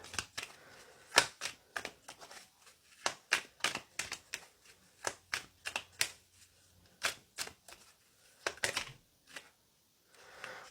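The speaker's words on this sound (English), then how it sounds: "so I'm just going to keep shuffling." A deck of tarot cards is shuffled by hand up close, quiet crisp riffles and taps arriving in irregular bursts with short pauses between them.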